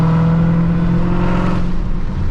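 A 2020 Dodge Challenger SRT Hellcat Redeye's supercharged engine growls loud and close in a steady, sustained rev lasting a couple of seconds, its tone shifting slightly partway through.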